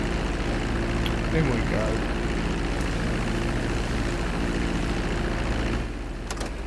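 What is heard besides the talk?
plane taxiing into hangar in a video game (GTA V)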